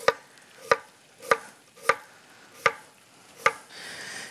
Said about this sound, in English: just come through here and do about a quarter inch slice